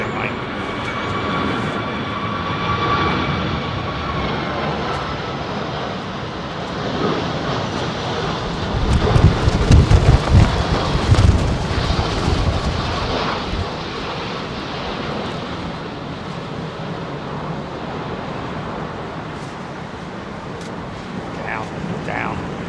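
A Qantas jet lands in gusty wind at London Heathrow, a broad engine roar that swells to a loud rumbling peak midway before easing off, with people talking throughout.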